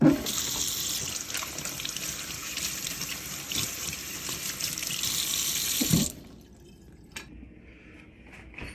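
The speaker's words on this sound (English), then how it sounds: "Wash your vegetables, damn it." Tap water runs loudly into a sink as green onions are rinsed under it, a steady splashing gush for about six seconds before shutting off, leaving faint drips and small clatters.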